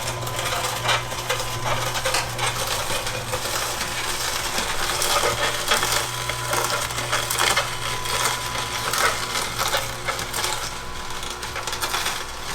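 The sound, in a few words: juicer machine juicing celery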